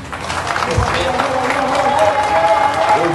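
Applause from a crowd at a political address by the Haitian prime minister, a broad sustained clapping wash with some voices and murmuring mixed in, moderately loud throughout.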